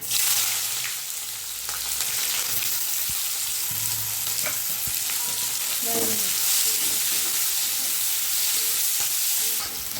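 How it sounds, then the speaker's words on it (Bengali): Steady sizzling of chopped onions frying in a pan with bay leaf and cumin, with occasional stirring scrapes and clinks, continuous throughout. "পেঁয়াজটা আমি ভালো করে ভেজে নেবো"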